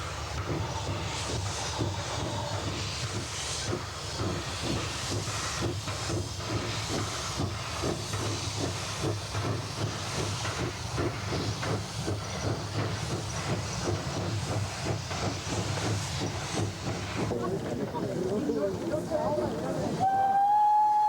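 A 220-type express steam locomotive with outside frame chuffs rhythmically amid constant hissing steam, ending with a rising whistle.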